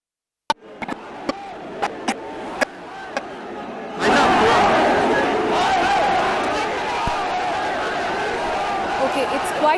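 Protest crowd at the gates of Jama Masjid in Delhi, a dense roar of many voices swelling suddenly after a few sharp knocks and then continuing loud and steady.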